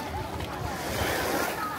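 Sea waves wash in at a beach on the Hamilo Coast near Pico de Loro as a soft, steady surf with light wind noise on the microphone. The sound stays fairly quiet and continuous.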